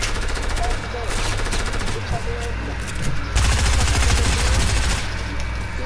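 Sustained automatic gunfire in a video game, loud rattling bursts running almost continuously with heavier stretches midway, while a voice talks faintly underneath.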